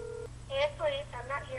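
Phone dialing tones from a call being placed: a short steady tone, then a quick series of bright keypad beeps of varying pitch, close and clear, with a faint low hum underneath.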